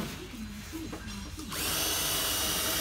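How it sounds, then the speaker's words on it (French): A power drill bores mounting holes for a kit on a BMW E36, starting as a quiet whine and jumping to a loud, steady high-pitched drilling drone that holds to the end. "On passe au perçage pour la fixation du kit."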